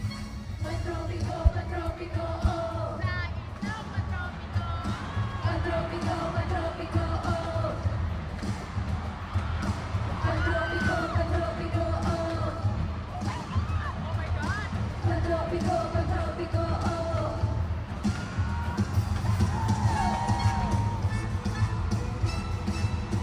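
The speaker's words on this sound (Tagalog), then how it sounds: "Grabe yung hiyawan talaga." Concert crowd at a Day 1 concert show during the opening and a song, a dense, sustained roar of screaming and cheering under loud music throughout, with voices talking over it.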